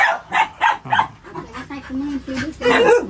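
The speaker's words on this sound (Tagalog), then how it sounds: "kung bakit maraming asong nakatali din sa bahay niya" Several dogs tied up around a rural house bark in quick sharp bursts, a few yips and whimpers mixed in, close by, while a person talks over them in between.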